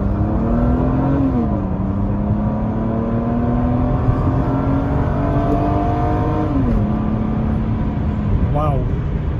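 A Mercedes C36 AMG with a four-speed automatic pulls hard on a freeway from a rolling start, its engine note climbing steadily, dipping at a shift and rising again, loud and close with road and wind noise beneath.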